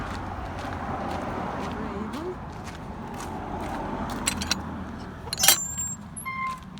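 Cars approach along a road on a walk to Aira Force Waterfall, a steady broadband rumble of traffic building under the outdoor wind noise, with a few sharper clicks and knocks toward the end.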